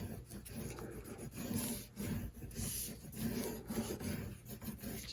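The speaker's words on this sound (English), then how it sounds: "I'm going to burnish it down with my bone folder" A bone folder is rubbed firmly over cardstock in repeated back-and-forth strokes, making a soft, close rasping and scraping with no speech.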